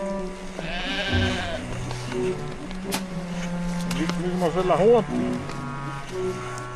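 Sheep bleat in the snowy Austrian Alps, with several wavering calls at close to middle distance, one near the start and a cluster around the midpoint, over a steady low background hum.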